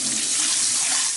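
Tap water gushes steadily into a sink while the washing water is changed, a loud, close, continuous splashing rush with no pauses.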